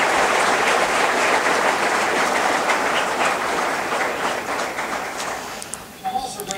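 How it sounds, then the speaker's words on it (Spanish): Sustained applause from an audience at a speech by a politician, loud and dense throughout, fading toward the end as a voice begins to speak. "Se merecen un gran aplauso."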